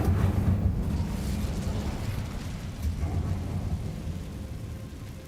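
Incendio fire spell in the video game Hogwarts Legacy, a loud low roaring rumble of flame and explosive whoosh that swells at the start and then slowly fades.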